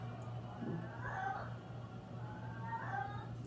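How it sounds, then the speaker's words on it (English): A cat's drawn-out yowls, two wavering calls heard faintly indoors over a steady low hum. "don't know if y'all can hear him yodeling."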